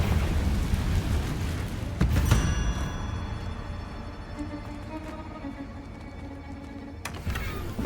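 A Confringo spell blast in Hogwarts Legacy, a loud burst near the two-second mark followed by a long crackling, ringing decay, with a second sharp burst near the end.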